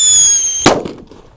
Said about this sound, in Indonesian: Whistling King Thunder yang dibuntel dalam kertas ya. Kita nyalakan di lubang tanah.